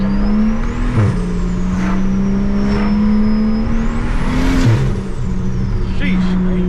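A single-turbo BMW 335i engine drones steadily during a drive, with whistling turbo spool rising and falling and a brief dip in pitch around each downshift, loud and close, under occasional voices.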